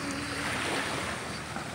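Ocean waves wash onto a beach shore in Samar at sunset, a continuous hissing surf with wind noise on the microphone, steady and fairly close.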